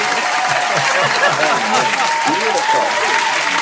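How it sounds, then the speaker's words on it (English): A church group claps for everyone who sang that day, sustained dense applause filling the room while voices carry on beneath it. "Can I give And a then clap for everybody that? starts singing"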